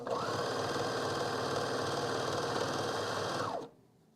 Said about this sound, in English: what I need to be doing is serging the top independently so they don't ever fray